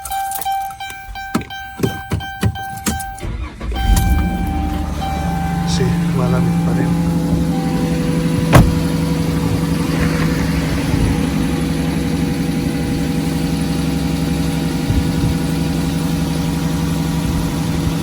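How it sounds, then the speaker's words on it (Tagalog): A car engine starts and settles into a steady idle to warm up on a cool early-spring day, a continuous low hum running under someone speaking throughout. "Painitin muna natin ng sasakyan."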